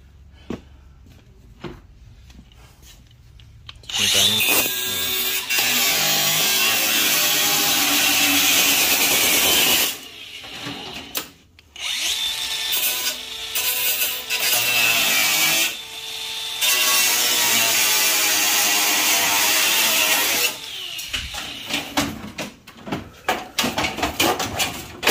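A power drill works screws out of a copper and aluminum radiator A-coil in loud bursts of whirring, broken by short pauses and clattering handling noises, with no talk.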